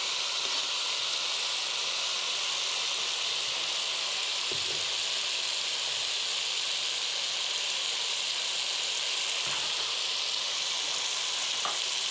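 Leafy greens tossed into a hot pan with turmeric and salt sizzle loudly and steadily at close range, with a couple of soft stirring knocks and no speech.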